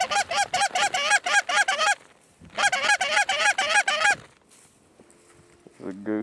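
Geese on a Saskatchewan waterfowl hunt give loud, rapid bursts of honking in two clustered volleys. A quieter pause follows, with a brief faint call near the end, close and clear.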